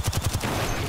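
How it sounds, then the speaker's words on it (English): Rapid burst of gunfire in a competitive shooter match on the Olympus map, four or five sharp close shots fired to destroy a trap, followed by a dense rumbling tail of in-game noise. "Yeah, I'm gonna shoot the trap out."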